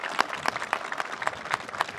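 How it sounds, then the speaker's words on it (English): At a community center grand opening and ribbon cutting, a crowd gives a short round of applause, with quick, fairly close, uneven clapping throughout. "Let's give them a round of applause."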